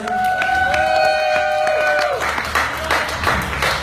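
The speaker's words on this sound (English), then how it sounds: "Please give them a nice round of applause." A concert audience at The Bell Tower in Fort Erie, Ontario breaks into applause with some cheering as a sustained musical tone dies away, and the clapping continues loud and close.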